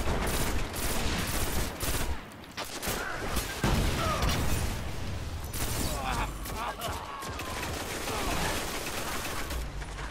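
Rapid, dense gunfire from a gun in Destiny: The Taken King during a 6v6 Clash match, with repeated bursts of shots and clattering mechanical sounds running almost continuously under game noise.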